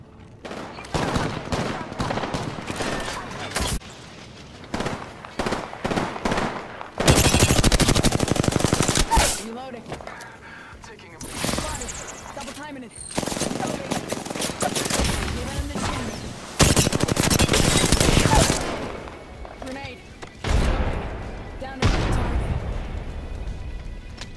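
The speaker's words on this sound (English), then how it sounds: "Taking fire." Video game gunfire in an Apex Legends battle royale match: repeated rapid bursts of automatic weapon fire and single shots, loud and close, broken by short pauses, with in-game voice callouts between the bursts.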